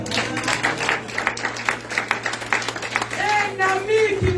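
Congregation clapping in rhythmic praise during a Sunday church service, a steady run of close, sharp claps with voices and singing rising under it toward the end.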